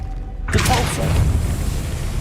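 Depulso spell cast in the video game Hogwarts Legacy, a sudden loud booming burst after a near-silent start, followed by a sustained rumbling, crackling tail that fades only slightly.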